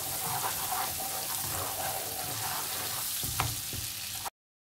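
Butter and a pinch of salt melt in a pan while being stirred, giving a soft, steady sizzling hiss with a few faint scraping clicks, no talking.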